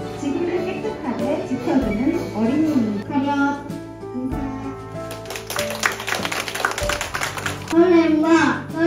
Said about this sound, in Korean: 초록 나윤화, 너의 남다른 생기와 부지런함에 큰 박수를 보냅니다